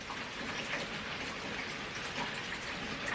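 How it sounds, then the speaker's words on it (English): Steady rain falls, pattering on surfaces in a continuous even hiss with no breaks. "rain sounds pretty, though, doesn't it?"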